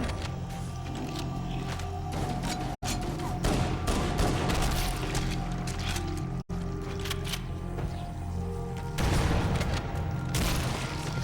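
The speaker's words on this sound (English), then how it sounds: "Explosion." Explosions and gunfire in the Halo video game, a dense, loud stretch of booming blasts and rapid shots layered over a steady droning game soundtrack, with a heavier burst near the end.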